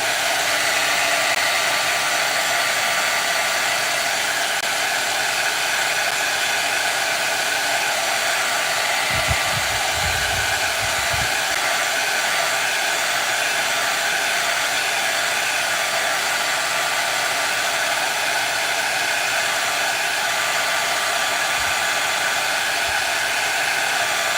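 A hair dryer blows steadily and loudly to dry dark brown paint during a painting session, its broad constant roar unbroken for the whole stretch with a brief low rumble partway through.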